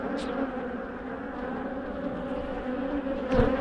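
Honeybees buzz steadily at an aggressive hive in a dense, continuous drone, close and fairly loud throughout, with a brief sharper rise near the end.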